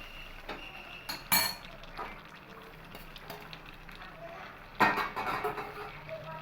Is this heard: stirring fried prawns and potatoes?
yes